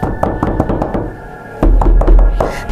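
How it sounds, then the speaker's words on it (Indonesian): Repeated knocking on a door in the middle of the night, a run of sharp raps that grows louder and heavier in the second half, with no talk. "dia dengar ada suara orang ngetok-ngetok pintu"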